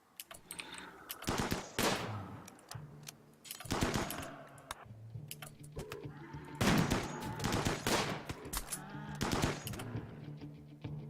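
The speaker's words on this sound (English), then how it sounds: "we'll shoot the rest of them as they come across the lake" Bursts of gunfire in the Rimworld video game as colonists shoot manhunter muffalo crossing a lake, with repeated loud volleys and short pauses between them.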